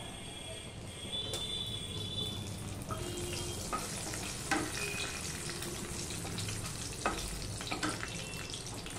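A dried red chili and a bay leaf crackle in oil left from frying potatoes, as the base for mutton kosha. The sizzle is steady and moderate, with small pops and the odd clink of a utensil close by.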